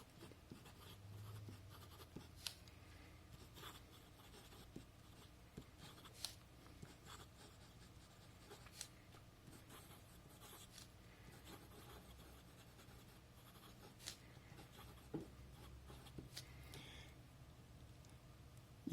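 A TWSBI fountain pen with a fine nib scratches across paper in a quiet room, with faint continuous scritching broken by soft taps and ticks as strokes start and stop, close and intimate.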